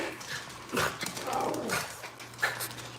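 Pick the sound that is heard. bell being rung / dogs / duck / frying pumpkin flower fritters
dogs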